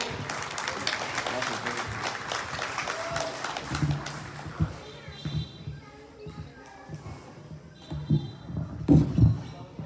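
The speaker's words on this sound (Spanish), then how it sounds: "Fuerte el aplauso, por favor." Applause at a community xantolo gathering, a crowd clapping for several seconds before it thins into scattered claps, shuffling and voices.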